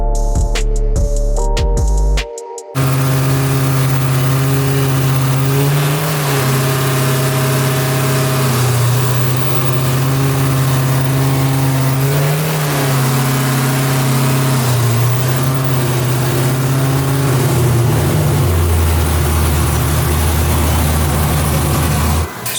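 An LS-swapped Nissan Skyline roars on a dyno in a loud, sustained pull, with rising and falling engine tone as it revs hard at close range after a brief burst of other noise at the start.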